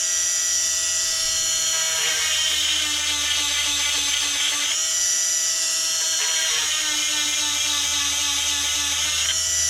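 A small high-speed rotary power tool sharpening a chainsaw chain, a steady loud whine that dips in pitch in repeated passes as the bit grinds each tooth, close and alone.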